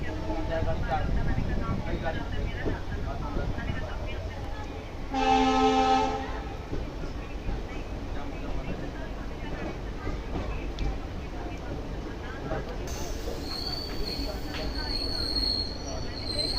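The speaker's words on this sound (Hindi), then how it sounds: "Train is arriving at Lal Kuan Junction railway station." Sampark Kranti Express train arriving at Lal Kuan Junction railway station, a continuous rumble of wheels and carriages with a brief horn blast and high squealing brakes later, steady and close.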